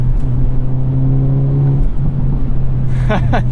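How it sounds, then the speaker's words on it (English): A 2022 Hyundai Elantra N prototype's engine holding a steady loud drone as it drives, then dropping in pitch as revs change, with a voice talking near the end. "I love this little powertrain. The rev matching. Pop, pop, pop, pop."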